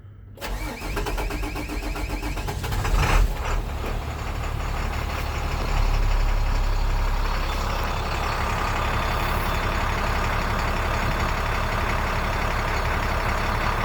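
A 2006 International 4300 truck with a DT466 diesel engine, stone cold after sitting all day, cranks and fires, then settles into a loud, steady idle that runs close and unbroken.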